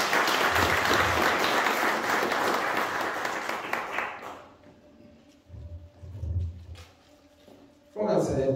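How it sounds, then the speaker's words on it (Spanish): Wedding guests in Nurio applauding the newly married couple, a loud dense burst of clapping that fades after about four seconds, followed by quieter room noise, a few stray sounds and someone starting to speak at the end. "vamos a darles un fuerte aplauso."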